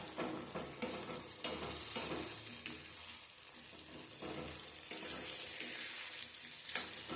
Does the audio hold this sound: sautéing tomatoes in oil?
yes